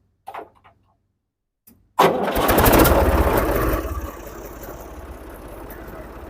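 A tractor engine turns over and catches after a brief quiet pause, bursting into a loud rough roar that settles into a steadier, quieter idle; faint voices are audible beforehand.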